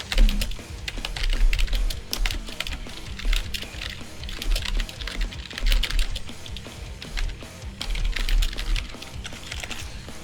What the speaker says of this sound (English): And I just typed it out and I'm gonna submit it.